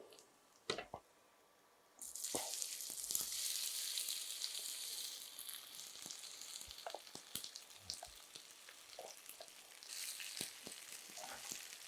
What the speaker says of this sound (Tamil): இது நம்மகிட்ட அப்படியே ஸ்லோ ஃபயரில் அப்படியே நல்லா குக் ஆகணும் நல்லா ரோஸ்ட் ஆகட்டும்